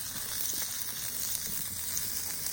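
Sausage links fry in a pan on a titanium Überleben Stöker flatpack stove fed with twigs and kindling, giving a steady, close hiss and sizzle with small pops throughout.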